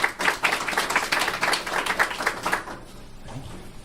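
An audience at a venture capital robotics panel event applauds, a brisk burst of many hands clapping close by that fades out after a couple of seconds.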